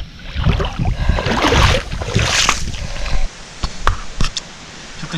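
Strong October wind rustles outdoors beside a small stream near a forest footbridge, a steady loud broadband roar with gusty swells and a few sharp knocks toward the end.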